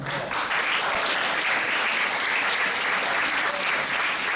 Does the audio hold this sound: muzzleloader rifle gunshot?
no